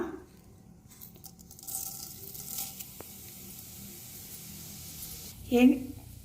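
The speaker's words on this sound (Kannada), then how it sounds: "ಎಣ್ಣೆ ಚೆನ್ನಾಗಿ ಕಾದ್ಮೇಲೆ ಸ್ವಲ್ಪ ಜೀರಿಗೆ ಹಾಕ್ಕೊಳ್ಳೋಣ" Cumin seeds hit hot oil in a pan with a soft sizzle that builds and settles into a steady frying hiss, a brief louder crackle near the end, while someone talks over it.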